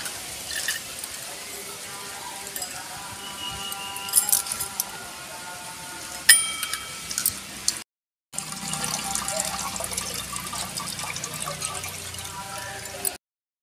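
Lentils being washed in water before soaking for adai, with small sloshing, trickling and dripping sounds plus light clinks of a vessel, close and fairly quiet, broken by a brief silence.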